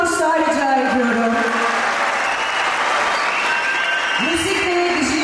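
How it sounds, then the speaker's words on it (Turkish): Concert audience applauding at a symphony event blending music and digital art, a loud sustained wash of clapping from a large crowd throughout, with a voice speaking over it. "Bir büyük alkışlar rica ediyorum."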